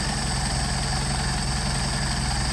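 Mercedes 190SL engine running steadily on Solex carburetors during adjustment, with RPM raised slightly on the first carburetor; a constant close, loud idle-to-fast-idle hum throughout, no speech.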